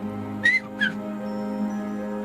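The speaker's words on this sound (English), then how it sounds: "They look up, they whistle." Two short whistles from a person, close and bright, the second slightly shorter, followed by a steady low droning background with no voices.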